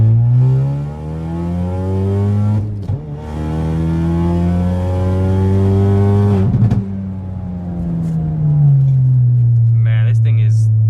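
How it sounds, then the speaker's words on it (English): A car accelerates hard in second gear, the engine note climbing steadily and loud from inside the cabin, then a quick shift and another rising pull, with brief spoken remarks near the end. "Here's that second gear pull though."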